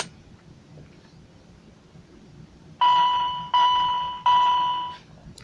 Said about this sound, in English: and it'll give us a little beep with some flashing lights